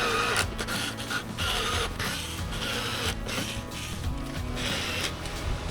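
A screw gun drives thick plastic wood screws into 4x4 fender flares, a steady whirring buzz broken by short pauses, close and loud with no talk.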